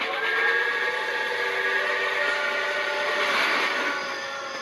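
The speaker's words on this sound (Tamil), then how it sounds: "ஓகே, இது தான் ட்ரெயின்." Train in the horror video game Death Park, a steady hissing steam-whistle blast that holds loud and unbroken for several seconds, then fades slightly at the end.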